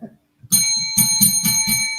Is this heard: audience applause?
no